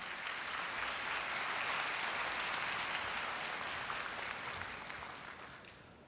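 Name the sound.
audience applause welcoming the university president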